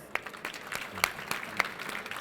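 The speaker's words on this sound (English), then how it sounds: "Please give them a round of applause." Audience applause for the session speakers at a city planning conference, a thin steady patter of clapping with a few sharper hand claps standing out, fairly close and with no one talking over it.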